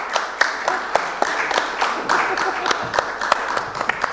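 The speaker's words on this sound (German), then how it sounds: "ein Applaus für die Teilnehmer." Applause for panel participants at a democracy conference, individual claps clearly distinct in a moderately sized audience, steady and close, with some murmuring underneath.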